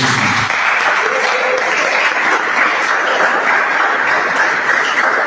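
Church congregation applauding during a worship service, a loud, dense, continuous clatter of many hands clapping close by, steady throughout, with a brief murmur of voices at the start.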